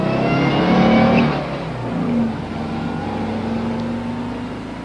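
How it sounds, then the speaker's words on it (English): A car rumbles nearby, its engine swelling briefly as it drives up, then easing back to a steady low idle as it comes to a stop, with no voices. "The car stopped and Thornwell got out."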